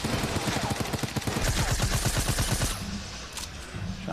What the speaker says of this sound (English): Shots from Tendons burning through potentially what he has left.